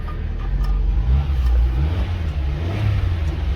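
A car engine fitted with a SafeDrive Pro Plus driver-education brake and gas control runs and revs in a steady, close, low rumble that swells slightly and holds throughout.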